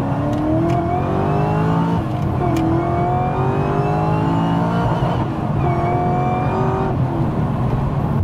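A turbocharged Holden Maloo ute making 650 wheel horsepower accelerates hard, its engine droning loud and close and climbing in pitch through several gear pulls with brief dips between shifts.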